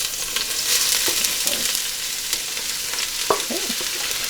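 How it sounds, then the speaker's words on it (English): Chopped leeks sizzle in olive oil in a pot over medium heat on a stovetop, a steady close frying hiss with a few brief stirring clinks and scrapes. "I have my pot on medium heat. I'm adding 2 leeks chopped."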